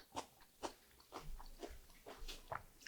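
Someone chews seasoned butterbur stalks, cooked briefly to stay crisp, with soft, irregular crunching bites close to the microphone and no talking.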